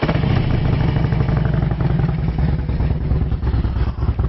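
A 2006 Harley-Davidson Electra Glide Classic FLHTC with a V-twin engine idles steadily up close, a loud, even, throbbing chug with mechanical clatter and no talking.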